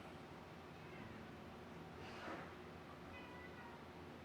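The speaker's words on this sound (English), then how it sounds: "What are you doing to the cat?" A cat lets out one short, faint meow about midway, over a quiet room hum with no other distinct sounds.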